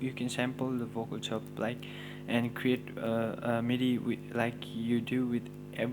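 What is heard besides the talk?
No everyday noise stands out behind the speech.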